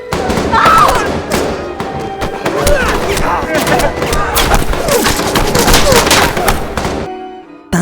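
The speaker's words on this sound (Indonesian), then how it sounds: "para militer menembaki orang-orang yang mencoba untuk menyelamatkan yang terluka" Dense, loud gunfire from soldiers shooting at people: a chaotic fusillade of overlapping shots and bursts, with cries and commotion mixed in, ending abruptly.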